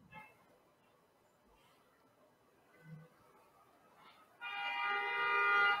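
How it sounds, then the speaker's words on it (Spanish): A truck horn sounds as a loud sustained honk near the end, arriving after a long stretch of faint background noise during a live broadcast call. "Hay un camión tocando bocinas."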